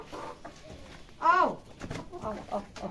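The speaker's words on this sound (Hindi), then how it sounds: "उनकी दुलारी मुर्गियाँ" Pet hens kept in a village home, a burst of clucking and squawking from nearby birds amid soft background voices and rustling.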